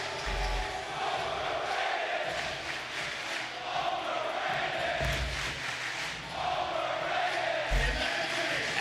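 Esports arena crowd at a Call of Duty League Major cheering and roaring in a sustained loud wash of massed voices, swelling in waves with deep thumps underneath.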